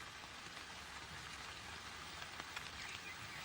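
Steady rain patters densely on forest leaves and ground, a continuous close hiss with scattered individual drops and no voices.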